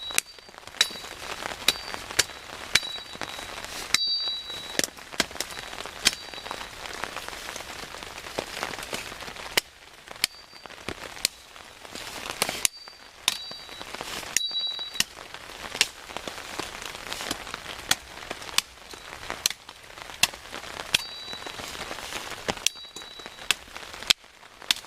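Heavy rain falls steadily at an outdoor campsite, a dense close patter of drops hitting surfaces with occasional sharper splashes and crackles, continuous throughout and with no one speaking.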